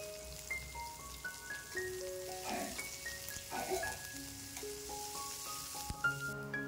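Onion and chili sizzle softly in hot oil with kalonji seeds and garlic, a faint steady crackle running beneath a louder stepped electronic melody that plays throughout.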